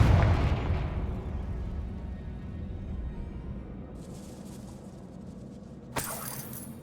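The Confringo spell in Hogwarts Legacy detonates with a loud opening boom that fades into a long rumbling decay. A sharp crackling burst follows near the end.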